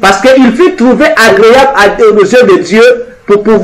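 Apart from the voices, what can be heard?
None of the usual background noises is heard.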